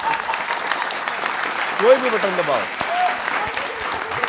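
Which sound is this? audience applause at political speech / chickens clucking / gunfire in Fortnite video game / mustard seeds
audience applause at political speech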